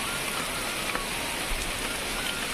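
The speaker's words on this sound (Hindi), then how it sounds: "बारिश काफ़ी तेज़ हो चुकी है" Heavy rain pours steadily on surfaces outdoors in a hilly area, a dense, close, constant hiss of drops with no break and no voices.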